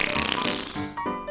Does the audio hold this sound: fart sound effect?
yes